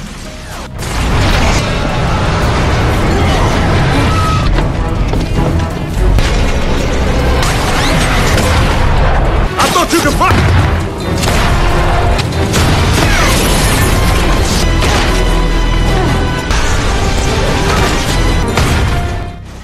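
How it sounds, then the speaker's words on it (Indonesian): Tank fire and explosions in a war film: a loud, dense battle soundtrack of booms, crashes and mechanical rumble that barely lets up, with a brief line of spoken dialogue over the din. "Uncle Barney berusaha melarikan diri dari tembakan tank yang terus-menerus membibiknya."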